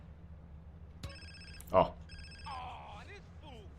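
A telephone rings in GTA San Andreas, two short bursts of electronic ringing separated by a brief gap, with a speaker briefly exclaiming between them and faint game sounds after.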